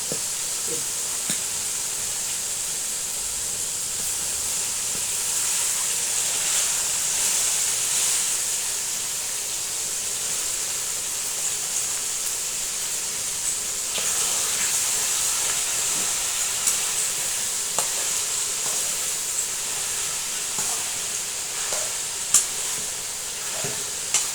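Eggplant pieces dropped into a pan of half-cooked tomato for a raw mango curry, giving a steady close sizzle and hiss that runs throughout, with faint scrapes and a few sharp clicks near the end.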